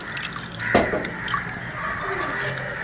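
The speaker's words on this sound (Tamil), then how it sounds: "கரைச்சி வடித்து எடுக்க போகிறோம்." Tamarind pulp is squeezed and dissolved in water by hand, then strained, giving faint soft drips and a gentle liquid splash under quiet room noise.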